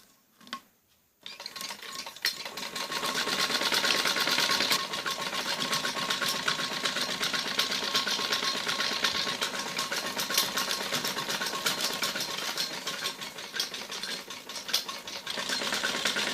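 Electric sewing machine running steadily for about fifteen seconds, stitching a line over the piping on a kameez neckline; a continuous close whirring hum after a brief pause at the start, with no talk.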